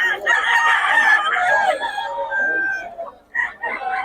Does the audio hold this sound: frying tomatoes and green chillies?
no